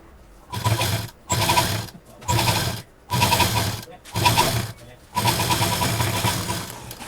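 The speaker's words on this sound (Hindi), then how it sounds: "इसको एक तरफ से हम सिल लेंगे।" A sewing machine stitches fabric for a pet bed in several loud, close bursts of rapid mechanical chatter separated by short pauses, the last run longest.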